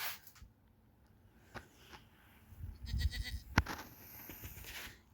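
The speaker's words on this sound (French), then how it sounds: "Et on va aller nourrir les chèvres." Goats on a farm at morning feeding time, a few scattered bleats and calls with rustling and shuffling, growing busier toward the middle with one sharp nearby cry, no talking.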